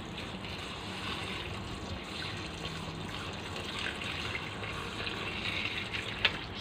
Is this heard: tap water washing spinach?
yes